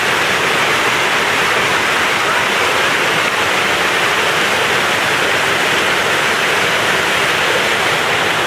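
Swift stream water rushes beside a hiking trail, a loud, steady, unbroken roar that stays close and constant throughout.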